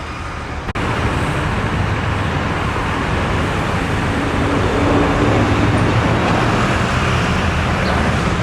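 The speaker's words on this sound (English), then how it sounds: "Tour bus." A tour bus rolls through busy Mexico City traffic, a loud, steady broadband roar of engine and road noise that swells slightly as it passes, with a brief knock near the start.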